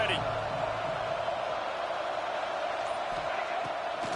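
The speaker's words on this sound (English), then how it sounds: "A big 3rd down coming, and hotty-toddy, gosh almighty, this crowd is ready." Ole Miss football stadium crowd roaring with a steady, dense wash of cheering before a big third down, continuous and loud throughout with no clear pauses.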